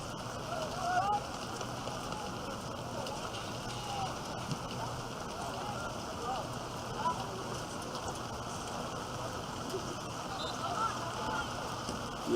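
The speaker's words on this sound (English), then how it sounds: "And the rain just keeps coming down." Steady rain falls on an outdoor soccer field during a high school boys' match, a dense even hiss with faint background voices and field noise throughout.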